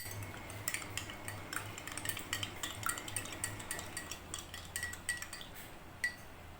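A spoon stirring starch and about half a cup of water into rice pudding with sugar in a metal pot, giving quiet, rhythmic scraping and clinking against the pot's sides with no talk.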